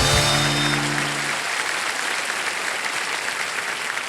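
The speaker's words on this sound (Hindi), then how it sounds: "एक बार ताली हो जाएगी" Studio audience on the quiz show Kaun Banega Crorepati giving sustained, even applause, loud and close, after a short musical sting fades at the start; no one speaks.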